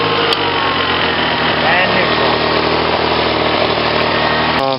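A 1999 Honda BF40 outboard motor on a 12-foot 1999 Rendova yacht tender runs loud and close, a steady droning hum with a dense buzzing texture, and a brief spoken word near the start.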